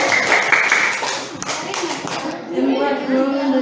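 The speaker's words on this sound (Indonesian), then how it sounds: "Beri tepuk tangan." Clapping from a classroom of students after a reading presentation, a short burst of handclaps at close range mixed with children's chatter, the claps thinning out toward the end while voices continue.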